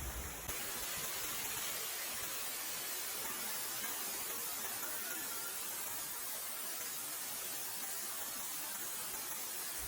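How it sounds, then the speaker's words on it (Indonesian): Water from the waterfall at Taman Beji Griya in Bali rushes and splashes, a steady, faint broadband hiss that continues unbroken without other sounds. "Gemercik suara air terjun ini menambah suasana menjadi tenang dan damai"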